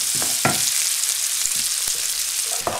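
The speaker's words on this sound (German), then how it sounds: "könnt ihr auch schon mal die Zwiebeln, den Knoblauch und die Aprikosen in die Pfanne geben" Onions, garlic and apricots fry in olive oil in a pan, a steady close sizzle with a few soft clinks and stirring scrapes.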